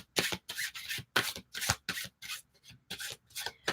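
Repeated brisk riffling bursts, about eight in quick succession, close and crisp with short pauses between, like a new deck of playing cards being shuffled.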